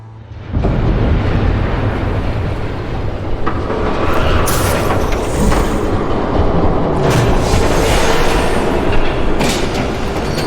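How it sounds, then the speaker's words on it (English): A train rumbles past in the video game Batman: Telltale, a loud, steady roar with rattling and clatter that builds and holds for the whole stretch, with no talk over it. "There's a train coming."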